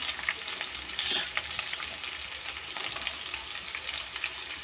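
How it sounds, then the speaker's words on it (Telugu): Chopped onions fry in a pan for a carrot curry, giving a steady, dense sizzle with occasional stirring scrapes, close up and continuous, with no voices. "కట్ చేసి పెట్టుకున్న ఉల్లిగడ్డలు కూడా వేసుకుంటాము"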